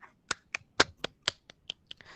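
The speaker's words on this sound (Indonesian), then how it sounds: "ya tepuk tangan untuk kelompok 3" A classroom applauds a student group after a peer-teaching presentation, with about ten sparse, distinct claps at a steady, slightly uneven rhythm, fairly close and moderately loud.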